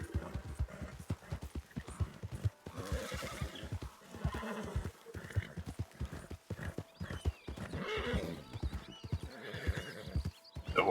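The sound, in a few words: horse galloping and whinnying, from video game Red Dead Online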